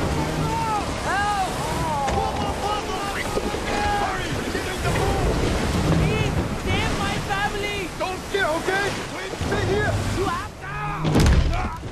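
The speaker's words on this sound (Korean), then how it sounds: "그러던 어느 날 엄청난 폭풍을 맞닥뜨리게 되고" A film's storm at sea, with heavy waves and howling wind churning loudly and continuously around a boat, mixed with a dramatic score and a sudden crashing surge near the end.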